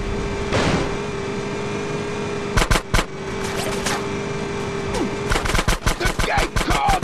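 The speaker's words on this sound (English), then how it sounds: "Shoot out the gate!" Gunfire shooting out a gate in the GTA San Andreas video game: a tight burst of three loud shots, then a rapid string of close shots over a steady engine drone.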